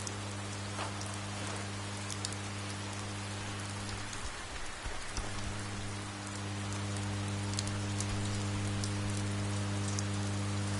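A rainstorm brings a continuous soft hiss of falling rain with scattered patters of drops, over a steady low hum.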